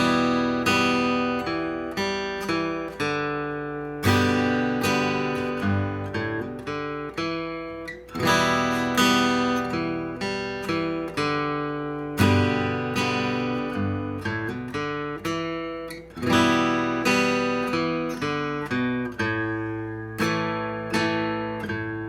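An acoustic guitar plays a simplified beginner's version of a famous song intro, with clear plucked notes and strummed chords ringing out and decaying in a moderate, steady rhythm.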